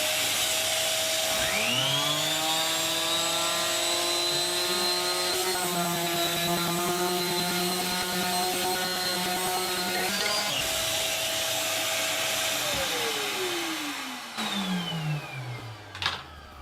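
A vacuum cleaner motor whirs up to a steady, loud drone with a high whine, runs for about ten seconds, then winds down with a falling pitch.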